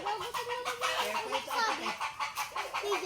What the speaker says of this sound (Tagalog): Tatakot lang yung manok.